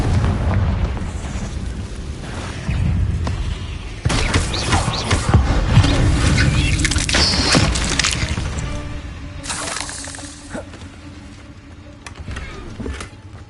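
Confringo spell explosions in the video game Hogwarts Legacy on PS5, with loud booming blasts and bursts layered over dense crackling game effects and a rumbling background, fading toward the end.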